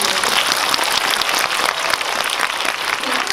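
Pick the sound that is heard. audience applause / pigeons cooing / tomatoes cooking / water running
audience applause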